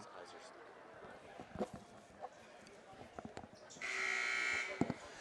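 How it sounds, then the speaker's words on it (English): A steady electronic buzzer sounds for about a second near the end, ending a timeout at a high school boys basketball all-star game, following scattered thuds and murmuring crowd noise in a gym. "And with the buzzer sound, it's just about the end of timeout here."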